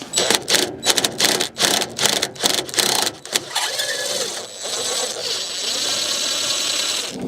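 Bolts come off a BMW 1 Series (E81/E87) front wing with a tool that fires off loud, rapid ratcheting bursts in a stuttering rhythm, then settles into a steady mechanical whir.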